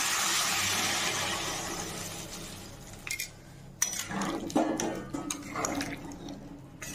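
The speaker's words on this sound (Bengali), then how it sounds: "এখন জল দিয়ে দিচ্ছি।" Water poured into a cooking pot of boiled chickpeas for Bengali-style ghugni, a steady rushing pour at the start that gives way to clinks and knocks of the pot and utensils.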